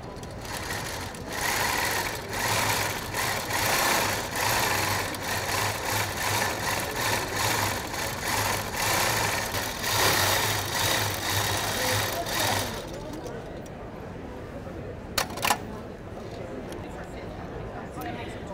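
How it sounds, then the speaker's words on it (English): A Juki sit-down long arm quilting machine with stitch regulation hums in a steady fast run as it stitches a tree design, then stops near the end, leaving quiet room noise with a couple of short clicks. "use my laser light on the front of the machine to stitch a design"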